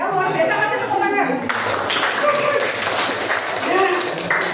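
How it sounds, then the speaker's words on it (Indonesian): A classroom of students claps together in a burst of applause, the dense patter starting suddenly and carrying on to the end, while a voice talks over it. "Ya luar biasa, kasih tepuk tangan."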